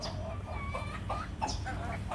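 Several silkie chickens cluck and chirp softly and continuously nearby while eating water spinach, short murmuring calls overlapping against a steady background hum.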